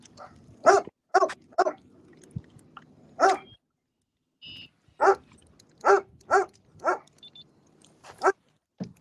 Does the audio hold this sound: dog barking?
yes